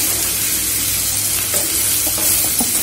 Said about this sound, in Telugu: చూడండి మంచిగా ఫ్రై అయింది మన బెండకాయ